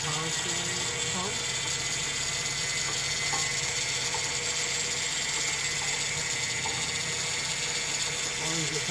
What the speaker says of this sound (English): Is the noise coming from the power steering pump?